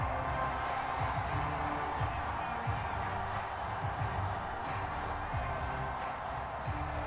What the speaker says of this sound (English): the crowd doesn't like that